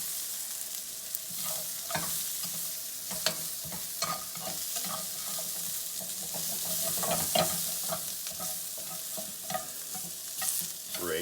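Onions for a peanut curry fry in a pan with a steady sizzle while a utensil repeatedly scrapes and stirs them, the scraping taps and drags recurring throughout, close and moderately loud.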